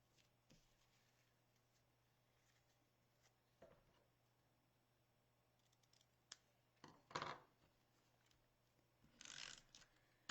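Scissors snipping paper while cutting pieces for a Paper Pumpkin stamped card kit: a few short, quiet cuts and crisp snips scattered over a near-silent background, with a louder burst of cutting toward the end.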